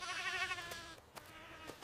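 A single goat bleats near a tree, a wavering cry lasting about a second, followed by a few faint knocks.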